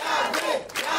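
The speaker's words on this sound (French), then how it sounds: "Je voudrais que le peuple de Dieu acclame Yahvé." A church congregation at a Sunday worship service shouts and cheers in acclamation, a brief loud surge of massed voices rising and falling in waves.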